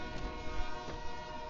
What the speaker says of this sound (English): There's the Marysville train.